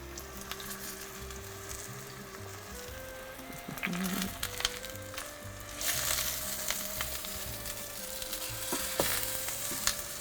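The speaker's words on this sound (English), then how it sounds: "Yes, very, very quick frying on here." Steady, lively sizzling of eggplant frying in a hot pan, with occasional clatter of stirring and a faint background hum.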